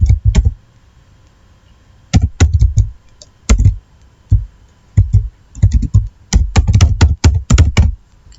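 Someone types an email address on a computer keyboard, producing loud, close bursts of clicking keystrokes in short clusters separated by brief pauses.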